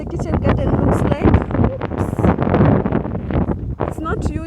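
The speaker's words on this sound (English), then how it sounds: "it's too windy" Wind buffets the microphone in a steady low rumble in a kitchen garden, with a person talking loudly over it close by.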